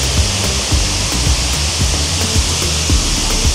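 Steady rushing roar of a waterfall on the Côte d'Azur, loud and close, with continuous splashing water and faint low thumps running through it.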